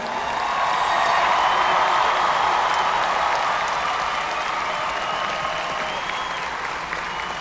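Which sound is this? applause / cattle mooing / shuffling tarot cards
applause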